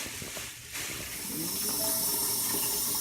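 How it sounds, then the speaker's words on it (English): Water runs from a tap and fills a cooking pot on a home kitchen counter while making Mexican beef vegetable soup, a soft steady hiss that swells and deepens after a brief pause. "we're putting the water into the pot"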